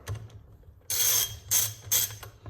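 A ratchet wrench tightens a metric bolt on a four-speed gearbox, giving three short bursts of quick metallic clicking close by, separated by brief pauses over a faint low hum.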